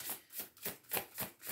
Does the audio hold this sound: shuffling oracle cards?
yes